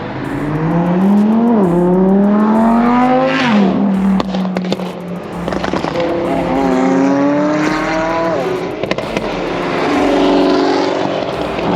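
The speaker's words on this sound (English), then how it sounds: "those backfires are crazy" Loud straight-piped Subaru BRZ/Toyota 86 exhaust revving hard in rising and falling sweeps, with sharp crackling pops and backfires between revs, close by.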